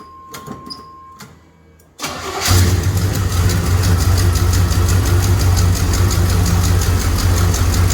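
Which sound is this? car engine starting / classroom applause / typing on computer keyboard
car engine starting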